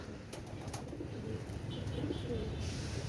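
Indian Rampuri pigeons coo softly in a steady low murmur, with faint wing and background movement around them.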